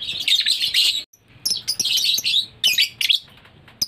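Lovebird chicks and their parents chirp close by in quick, shrill bursts of tweeting, broken by short pauses.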